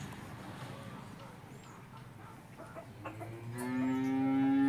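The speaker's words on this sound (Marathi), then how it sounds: "हंबा पण ओरडतो ना." A cow lets out a low, drawn-out moo toward the end, faint and somewhat distant, after a quiet stretch of farmyard ambience with a hint of fowl.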